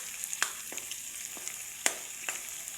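Garlic and a single chili browning in a pan for chicken adobo, a continuous close sizzle with a few sharp pops and crackles scattered through it, no talking.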